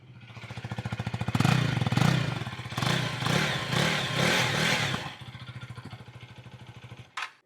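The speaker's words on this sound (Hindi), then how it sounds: "अब मैं इसका एग्जॉस्ट सुनाता हूँ आपको।" Husqvarna Vitpilen 250 motorcycle idling with a rapid, thumping single-cylinder exhaust beat, revved several times in short surges before settling back to idle, then a sharp brief burst near the end.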